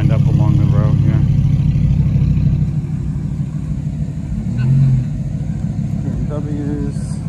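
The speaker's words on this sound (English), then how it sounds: "R8 rolling in." An Audi R8 rolls in along the road at a Cars and Coffee car show, its engine a steady low hum and rumble under continuous nearby chatter from people talking.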